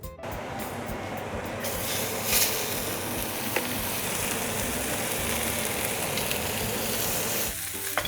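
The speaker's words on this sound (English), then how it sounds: "What I'm trying to do is just sear the outside of the meat." Osso buco meat searing in a hot pan given a good dash of oil, a loud continuous sizzle and crackle that holds steady throughout, with a brief clatter near the start.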